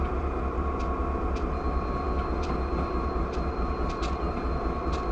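A Norfolk Southern diesel locomotive consist sits idling in Train Simulator, giving a steady low engine rumble with a faint high whine and occasional soft clicks, close and unbroken.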